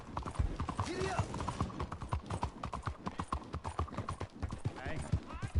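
Horse hooves clip-clop steadily in the video game Red Dead Redemption 2, a quick repeating rhythm running through the whole stretch alongside a brief whinny and a voice speaking over the ride.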